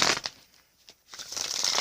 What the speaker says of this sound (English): Now, I'm going to shuffle for you.